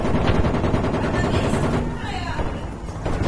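Dense, sustained gunfire from a Project Reality battle, rapid overlapping shots and bursts rolling on without pause, with a faint voice now and then beneath the shooting.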